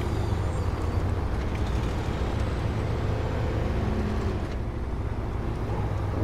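A truck engine in the SnowRunner video game drones loud and steady, a deep rumbling idle-to-load growl that holds without pause for several seconds.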